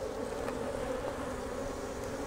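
Dense, steady buzzing of many honeybees swarming close by at an open hive being split, a continuous droning hum with no voices.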